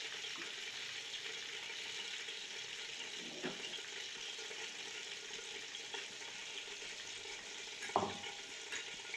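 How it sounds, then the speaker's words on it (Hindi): Masala frying in oil in a pan: a soft, steady sizzling hiss throughout, fairly faint, with a couple of light utensil taps, no speech. "उधर हमारे कबाब फ्राई हो रहे, इधर हम जो है अपना साथ साथ मसाला जो है वो भी फ्राई बना लेते हैं"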